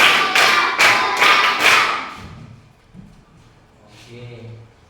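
A group of people claps in unison on a spoken count, four or five sharp, evenly spaced claps close by, then fading into quieter room noise and a brief voice.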